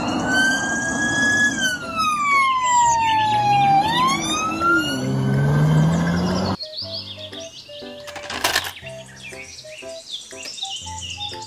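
Toy police car siren wailing loudly in a continuous rising and falling sweep, then giving way to electronic toy beeps and short tones.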